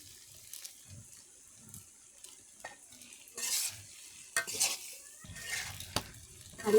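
Pasta is stirred in a pan as it cooks, with scattered scraping and clinking, soft sizzling and a few louder stirring bursts spread over several seconds.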